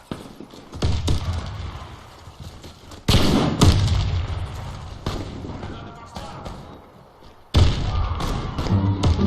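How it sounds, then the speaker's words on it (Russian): Grenade explosions in an online shooter game land as two heavy, close booms a few seconds apart, each fading into rumbling debris. Other game noise and people talking fill the background. "Граната!"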